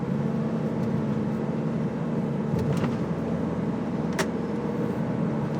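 A 2013 Hyundai H1 2.5 diesel van drives at low speed on a road, its steady engine hum and road rumble continuous throughout, with a couple of brief faint clicks or knocks partway through.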